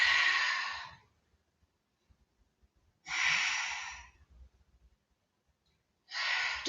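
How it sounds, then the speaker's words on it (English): Heavy breaths during a Pilates abdominal exercise come as three long, loud, airy exhales about three seconds apart, close up, with near silence and faint rustles in between. "Keep on breathing."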